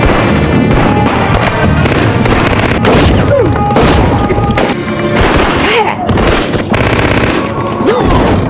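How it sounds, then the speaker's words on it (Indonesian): Dense, loud film gunfire as a backup team opens up, rapid overlapping automatic bursts and booming shots filling the whole stretch, with no talking. "muncullah tim bantuan yang langsung menghujani Kap dengan peluru panas"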